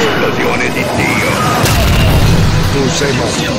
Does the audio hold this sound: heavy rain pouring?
no